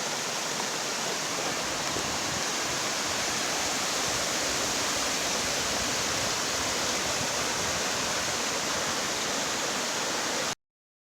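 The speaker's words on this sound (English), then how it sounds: "It's my first major creek crossing." Rushing water of Thunder Creek at a major creek crossing strewn with downed trees: a loud, steady broadband roar of whitewater that runs unbroken and close for the whole stretch, then cuts off abruptly at the end.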